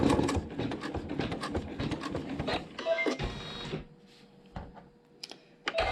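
A sewing machine runs in short rapid bursts, stitching a tiny seam joining two pieces of quilting fabric laid right sides together with raw edges even, fairly close and steady, then stops and leaves quieter handling noises.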